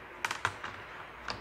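A laptop keyboard being cleaned of dust, a few quick light clicks and taps on the keys, close and quiet, with no talking.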